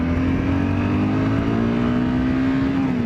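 A Honda CBR250R motorcycle engine revs steadily while riding in the wrong gear, a loud sustained drone with a slowly shifting tone under wind rush, heard from the rider's position.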